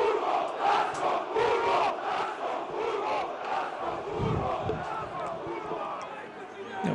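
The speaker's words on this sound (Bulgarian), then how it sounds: "За да ви казвам какво скандира публиката." A football crowd at a Bulgarian stadium, Botev Plovdiv against Ludogorets, chants in a loud rhythmic mass of voices that swells and pulses steadily, with a commentator's voice mixed in over the chanting.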